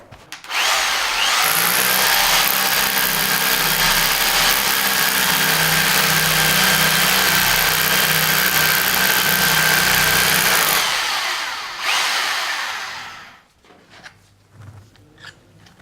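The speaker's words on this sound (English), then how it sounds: "Now, we're hammer drilling." Ryobi SDS drill hammer drilling with a masonry bit, a loud sustained hammering whine at close range that holds for about ten seconds, then winds down and stops, leaving faint handling noises.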